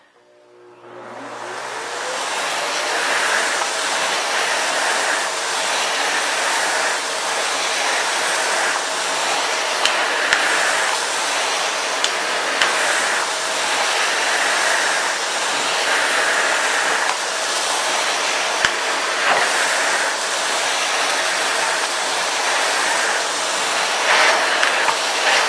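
A Hoover Commercial CH32008 Hush Tone canister vacuum starts up and runs on carpet with a steady, loud roaring hiss, its tone wavering slightly as it moves back and forth.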